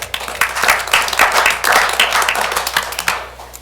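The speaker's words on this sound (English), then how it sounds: "just give them a round of applause" Applause at a city commissioners meeting in North Sioux City, with a small room of people clapping by hand. The clapping is close, dense and steady for a few seconds, then it thins out toward the end.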